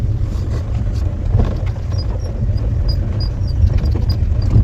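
A car drives past on a road, a loud close engine rumble holding steady throughout without talk.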